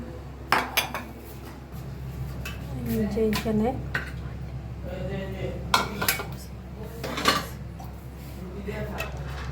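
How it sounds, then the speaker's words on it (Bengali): Dishes and bowls clatter and clink as food is served into bowls at a home meal with fish curry and pulao, scattered knocks and rattles under ongoing nearby talk. "সবাইকে বাটিতে বাটিতে বেড়ে দিচ্ছি"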